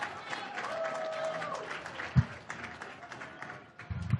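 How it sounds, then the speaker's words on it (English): Arena crowd at a boxing grand-arrivals event for Gervonta Davis vs. Ryan Garcia applauding trainer Joe Goosen, a moderate rolling clap and cheer under an amplified announcer's voice, with a couple of low thumps. "give a round of applause to the Hall of Famer, the lead trainer of Ryan Garcia"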